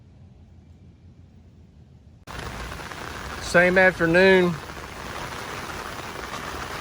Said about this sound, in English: we had a severe thunderstorm come through. Very, very bad winds and heavy, heavy rain.